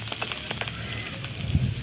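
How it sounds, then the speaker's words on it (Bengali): Chopped chili and onion are stir-fried in a pan for a dried-shrimp and snake gourd fry, giving a short stretch of soft sizzling with a few light spatula scrapes close by. "এখানে দিয়ে দিচ্ছি মরিচ আর পেঁয়াজ কুচি, মরিচ কুচি আর পেঁয়াজ কুচি। এখানে ভালো করে নেড়ে চেড়ে"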